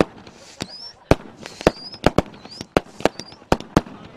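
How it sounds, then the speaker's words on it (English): Fireworks burst over a Somerset celebration for the 2016 Premier League champions, about a dozen sharp, loud booms and crackles arriving irregularly, with thin rising whistles streaking up between several of the blasts. "Fireworks lighting up the Somerset sky."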